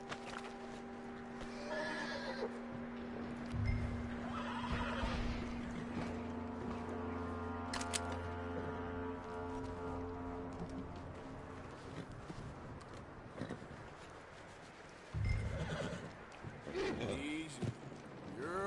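A horse neighs and whinnies in Red Dead Redemption 2 amid clopping hooves and a steady droning background, with occasional low thuds; fairly faint and mixed.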